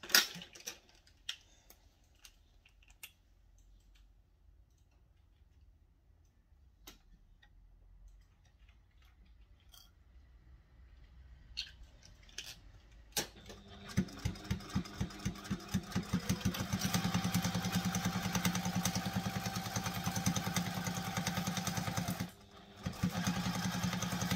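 A sewing machine making an odd noise starts up partway through, running with a steady rapid ticking rattle and hum, loud and continuous after a quieter stretch of scattered clicks.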